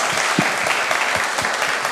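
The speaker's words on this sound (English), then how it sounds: "Applause." Steady, full applause from the audience fills the hall at the Kiwi PyCon XI conference closing session, close and continuous with scattered individual claps standing out.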